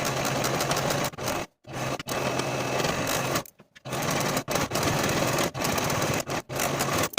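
Sewing machine finishing the center back raw edges of a bias bound open front jacket, running in steady loud bursts with several brief pauses between passes.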